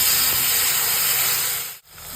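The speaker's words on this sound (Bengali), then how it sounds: "ওই তেলে আমি ফোড়ন দিব" Black cumin, dried red chillies and cloves hit hot oil for tempering, giving a loud, dense hiss that runs steadily, cuts out sharply for a moment near the end, then resumes.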